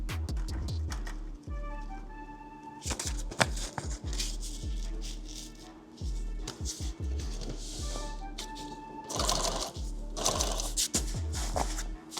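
Sewing machine stitching a bulky shooting mat, bursts of fast mechanical whirring broken by pauses, clicks and the shuffle of heavy fabric being shifted, close and moderately loud.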